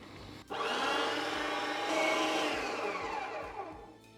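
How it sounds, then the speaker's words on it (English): An electric meat grinder grinds beef chuck for burgers, starting abruptly and running as a steady whining motor hum for several seconds, nearby and moderately loud, with faint clunks. "So I'm just going to switch to grinding out the chuck by itself."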